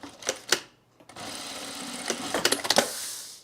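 A sewing machine hems along a fabric edge, with a couple of quick stitch bursts followed by a steady close run of motor whir and needle clatter.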